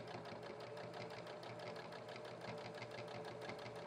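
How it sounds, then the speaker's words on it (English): Sewing machine stitching a straight seam down the side of fabric for a reusable liner, a steady fast rhythmic whirr and needle clatter running close and continuous throughout. "We're just going to use that line as a guide to sew down the side of the fabric"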